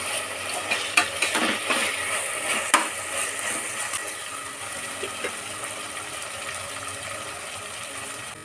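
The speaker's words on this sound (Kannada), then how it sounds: "ಶುಂಠಿ ಬೆಳ್ಳುಳ್ಳಿದು ಅಷ್ಟೊರ್ಗೆ ಫ್ರೈ ಮಾಡ್ಕೊಳ್ಳೋಣ ಸ್ವಲ್ಪ ಹೊತ್ತು." Ginger garlic paste frying in a pan gives a steady, soft sizzle with a few light stirring knocks near the start, continuing evenly without speech.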